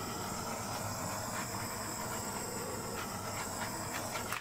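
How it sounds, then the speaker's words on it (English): A quick pass of a handheld torch flame over poured acrylic paint on a floral dip piece gives a steady, close, continuous hiss and roar with no pauses and no talk. "So I'm going to give that one a quick torch."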